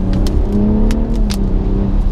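A BMW 340i four-wheel-drive sedan accelerates hard, its engine note a loud, steady rising drone heard from inside the cabin, with light clicks and road noise over it.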